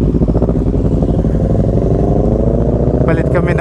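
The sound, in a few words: Kawasaki ER6n motorcycle engine revving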